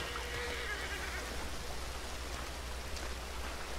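Steady rain falls in the video game Red Dead Redemption, a continuous broadband hiss of drops on surfaces with no breaks, moderately loud and even throughout.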